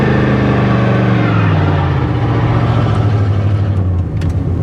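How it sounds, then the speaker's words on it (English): An old knocking half-ton truck engine revs hard as its big tires spin in a burnout, a loud close roar rising and holding, with scraping noise layered on top. "It revs good, it just doesn't want to move good."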